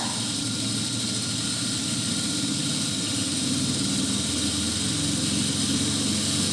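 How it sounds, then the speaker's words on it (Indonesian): An electric machine trainer motor in a lab runs steadily as it is brought up to 1500 RPM, giving a constant broadband whir and hiss with no talking. "jadi kita perbesar si RPM-nya ke 1500 ya"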